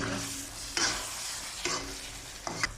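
Squid and a chili go into a hot pan for adobong pusit with vinegar, producing a loud, steady sizzle broken by a few sharp stirring scrapes, close up and without voices.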